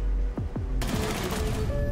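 Gunfire in Rainbow Six Siege, fairly close, with a sharp burst of rapid shots that rings on and decays while a few faint tones sound alongside.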